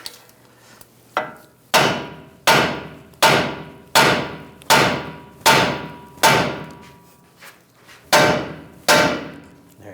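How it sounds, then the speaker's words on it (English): Hammer strikes on a ball joint while removing the front lower control arm of a 2011–2018 Ram 1500, about ten sharp metallic blows at a steady rhythm, loud and close with brief ringing decay after each hit. "you can use a removal tool, front end removal tool, or just take a hammer"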